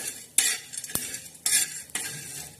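Yeswar dal and bajra are dry roasted in a pan, a spatula scraping and rattling the grains across the hot metal in a few brisk, close strokes with brief pauses between.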